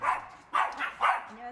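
A pet dog gives three short, mid-pitched barks indoors at a home, evenly spaced and fairly close but not loud, with a faint high whimper at the end.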